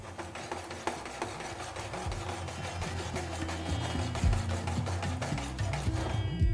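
Cumin and coriander powder are stirred into spiced chicken bharta masala in a pan, making soft, repeated scraping and rubbing strokes in a steady rhythm, close up and fairly quiet.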